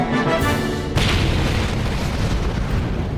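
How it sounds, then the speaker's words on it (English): The spaceship Liberator exploding in the Blake's 7 audio drama: a sudden deep boom that swells into a sustained roaring rumble, heavy and loud, with no speech over it. "The Liberator has been destroyed."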